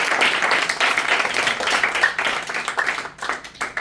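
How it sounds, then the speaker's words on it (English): An audience claps steadily for several seconds after a student debate, a dense, lively patter of many hands close by. "let's give a clap for both teams."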